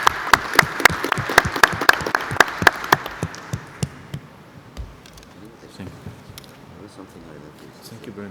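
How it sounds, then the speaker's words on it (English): Conference session attendees give a round of applause, a few sharp, near claps in a loose rhythm at first, then a fainter scattered patter as a voice talks over it. "I would like to ask you for a round of applause for yourselves"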